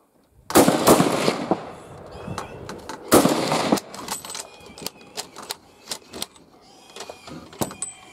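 Gunshots are fired during a hog shoot: two loud, sharp reports ring out a few seconds apart, followed by a scatter of lighter clicks and knocks as the firearms are handled.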